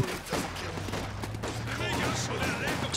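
Machine gun fire in the Company of Heroes 2 strategy game sounds as a dense, continuous rattle of shots and explosions under steady talk from a match commentator.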